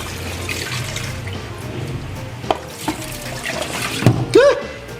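Running water splashing steadily into a sink as meat for sinigang is rinsed, with a few soft knocks and handling noises nearby; no one speaks.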